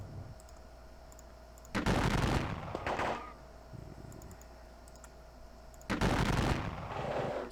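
Gunfire in an American Civil War strategy computer game, heard as two loud bursts of volleyed musket and artillery fire, each a crackling rumble lasting over a second, separated by quieter stretches with faint mouse clicks.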